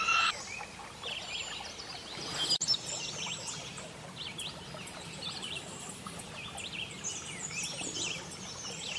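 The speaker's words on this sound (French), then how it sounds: "Même les petits oiseaux font du bruit." Small birds chirp in a garden: faint, scattered high tweets come and go over a low background murmur, with no one speaking.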